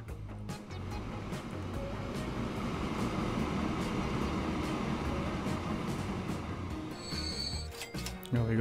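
A train runs in the Transport Fever game, a steady rolling rumble with rhythmic wheel clicks over continuous mechanical hum, ending in a few brief higher tones.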